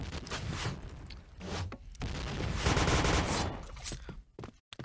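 Rapid bursts of automatic gunfire and explosions from a PUBG match at PBTC 2019, loud and dense throughout with some booms, ending in a brief gap.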